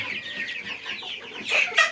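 Clucking chickens of the Tiger breed on a hobby poultry farm at night, repeated close calls in a steady chatter, rising to a couple of louder squawks near the end with no talk.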